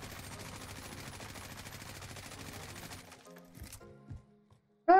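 Rapid M4A1 automatic fire in Warzone, a dense, steady stream of shots for about three seconds, then a few scattered lighter clicks and a sudden loud burst of noise at the very end.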